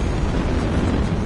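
A missile explosion in the Titanfall 2 video game, a loud, close, rumbling blast that fills the brief moment with a sustained roar.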